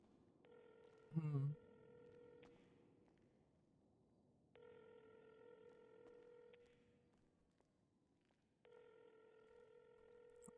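A telephone rings unanswered in three long electronic ring bursts separated by pauses, heard at a modest level, with a brief voice sound near the start.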